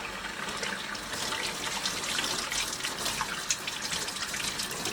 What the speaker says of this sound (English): you want to make sure you wash your hands really good